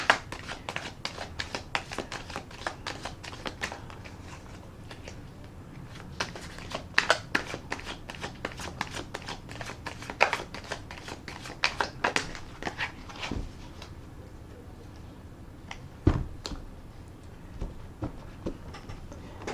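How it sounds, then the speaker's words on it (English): A deck of tarot cards being shuffled and riffled by hand, a long run of soft irregular clicks and flicks at close range, fairly quiet, with no talking. "I'm going to put another shuffle and rifle on the deck."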